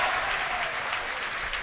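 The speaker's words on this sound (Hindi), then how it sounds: "सांप के जवाब पे यहां से वहां तक आपकी तालियां बजे।" Audience applause at a Hindi speech gathering, a dense steady wash of clapping that stays loud and even from start to finish with no voices over it.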